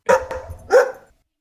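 A dog lets out two sharp barks in quick succession, close and clear against silence.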